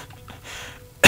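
A single short, loud throat clearing bursts out near the end after a stretch of quiet room noise.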